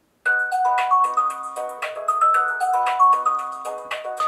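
A phone-call ringtone plays on a Blackview Active 8 Pro rugged tablet, a bright repeating electronic melody of stacked chime-like tones that starts abruptly and loops steadily at close range, with no voices.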